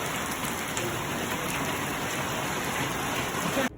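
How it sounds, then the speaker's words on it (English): Steady rain falls outside a trail shelter on a mountain hiking trail, making a dense, even hiss with scattered drops that continues throughout before cutting off abruptly at the end. "started raining about 15 minutes ago"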